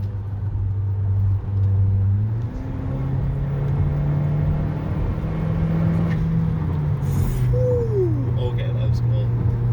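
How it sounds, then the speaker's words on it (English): Kia Soul GT engine accelerating with strong intake noise, a loud steady low drone that rises in pitch near the end, heard from inside the car with no talk. "Intake noises."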